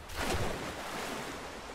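A waterfall in Rise of the Tomb Raider roars as a broad, steady rushing wash of water, fairly loud and continuous, swelling slightly at the start, with no talking.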